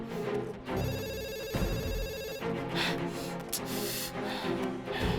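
A telephone rings repeatedly in a steady electronic pattern and nobody picks up, with faint background noise throughout.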